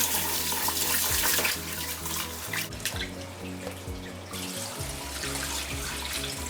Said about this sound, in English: after you drain all this water here